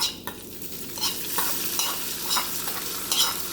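A hot tempering of roasted coconut, dry red chillies and curry leaves is poured into a pot of erissery curry and stirred. Brief sizzles mix with several distinct spoon-scraping strokes, close and moderately loud, with no talking.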